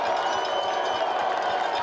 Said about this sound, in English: RPI getting the crowd behind them